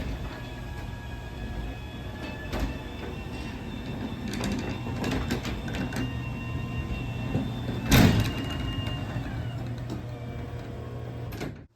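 A LiftMaster 87504 belt-drive garage door opener raises a Haas garage door, giving a steady mechanical hum and rattle throughout with a few clacks and a louder clunk near the end, no voices.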